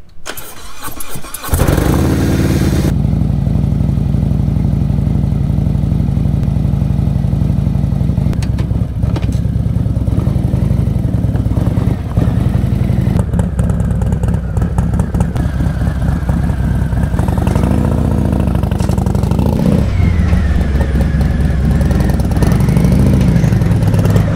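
A motorcycle engine starts and settles into a loud, steady idle that runs continuously up close, with slight throttle fluctuations.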